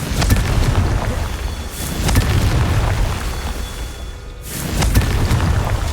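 A Confringo blast spell explodes in Hogwarts Legacy, several loud booming bursts with rumbling tails spaced a second or two apart, filling the clip with heavy blast noise.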